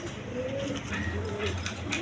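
A pair of black Gorra pigeons cooing softly and close by, low rolling coos repeating under a constant hiss of ambient room noise, with no voices.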